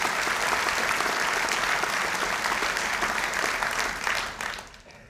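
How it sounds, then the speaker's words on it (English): An audience at a graduation ceremony applauds with steady, dense clapping from a large crowd. The applause holds for several seconds and then fades out. "We can give her an applause in absence."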